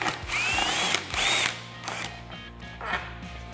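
A power drill spins out a T30 Torx screw from the fender of a Can-Am Maverick X3, with several short whirring bursts, brief pitch-rising whines and pauses between, close and loud with no talking.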